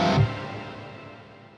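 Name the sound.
shimmer reverb and shimmer delay effect, Overloud TH-U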